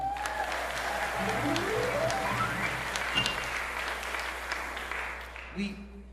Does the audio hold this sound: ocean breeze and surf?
no